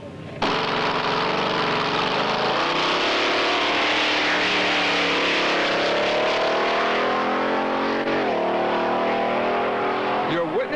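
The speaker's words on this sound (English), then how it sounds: "This is the Bud Sno King, a snowmobile that gives new meaning to the word speed" Bud Sno King, a dragster-style snowmobile on skis, roars at high speed on a trial run. The engine drone is loud and continuous for about ten seconds, its pitch sliding and rising in long sweeps.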